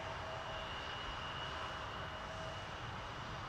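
A FedEx MD-11 freighter jet taxis at an airport, its engines a steady, low, distant roar with a faint whine that holds even for the whole stretch.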